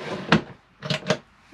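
A small wardrobe drawer in an Elddis Autoquest 165 motorhome opens and shuts: three quick, light wooden knocks and slides, close and quiet, with no talking over them.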